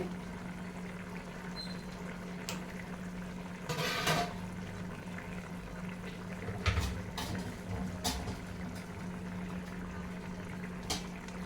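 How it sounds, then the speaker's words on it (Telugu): Fish pieces dropped one by one into a simmering Tamil Nadu style ghee fish curry, with a steady low bubbling and a few soft splashes and plops along the way. "ఫిష్లన్నీ కూడా ఇలా వేసేసుకోండి, ఒక్కొక్కటి"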